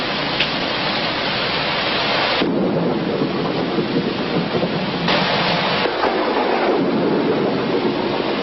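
Steady heavy rain and cloud around KL Tower in Malaysia, a loud, continuous broadband wash with surging gusts and no voices.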